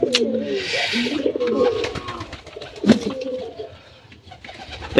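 Pigeons coo close by in a home bird enclosure, several soft rolling calls overlapping with a few brief chirps and some handling noise.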